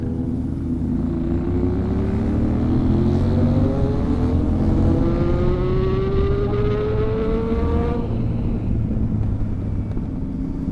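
Motorcycle engines revving and droning on a night ride, a loud continuous rumble with rising pitch sweeps as the bikes accelerate, steady and close throughout.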